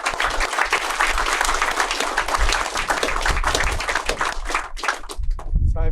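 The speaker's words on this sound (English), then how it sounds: "Round of applause." Loud, dense applause from an audience at a 2017 presentation fills the room steadily from start to finish, with a brief dip near the end before the clapping swells again.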